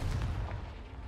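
A Confringo blasting spell goes off in Hogwarts Legacy, a heavy low thud with a short rumble that dies away within about a second.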